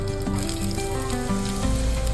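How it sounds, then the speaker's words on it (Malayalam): Shallots, green chilli and curry leaves sautéing in a hot pan give a steady, dense sizzle throughout, with a constant tonal hum underneath and no talking. "പിന്നെ കറിവേപ്പില ഇട്ട് ചെറുതായൊന്ന് വഴറ്റിയതിന് ശേഷം അതിലോട്ട് നമുക്കൊരു 5-6 ചെറിയുള്ളി"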